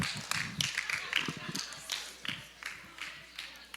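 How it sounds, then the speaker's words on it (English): A small group claps for middle school students, a short scattered burst of near, fairly quiet applause that thins out, with some talking in the room. "you want to give them a round of applause?"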